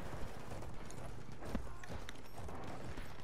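Horse galloping in the Battlefield 1 video game, a quick, steady clip-clop of hooves at moderate distance beneath a busy battlefield wash of faint background noise.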